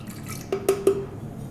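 Developer for black-and-white film processing poured into a processing tank: three short dripping, splashing pulses in quick succession, fairly quiet over a soft background hiss.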